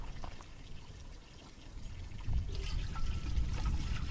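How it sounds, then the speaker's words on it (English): Red-coloured water is poured into a Berkey water filter. Soft trickling comes first, then a fuller, louder splashing stream, all close by. "now we're ready to pour it into the Berkey here"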